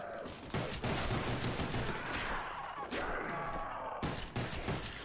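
Rapid bursts of automatic gunfire in the Call of Duty Black Ops zombies game mode, loud and sustained across the whole span with brief breaks between volleys, with no voices.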